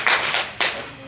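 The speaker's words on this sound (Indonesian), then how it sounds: "terima kasih tepuk tangan untuk kita semua" A few scattered claps from a small classroom group during a school guidance lesson, two short bursts that quickly fade.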